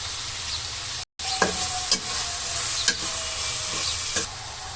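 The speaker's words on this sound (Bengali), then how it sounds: "এখানে আমরা আদা রসুনটা কিন্তু ভালোভাবে কষিয়ে নিয়েছি এবং লবণ মরিচের গুঁড়া দিয়ে আরেকটু কষায় নেব।" Ginger and garlic frying in a pan with salt and chili powder, a steady close sizzle broken by several spatula scrapes and stirs.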